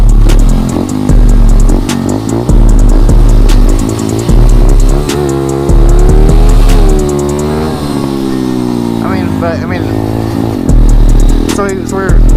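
A vehicle engine runs loudly and close throughout, its pitch rising and falling as it revs unevenly.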